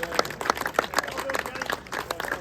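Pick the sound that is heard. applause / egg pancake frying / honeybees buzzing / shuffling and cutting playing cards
applause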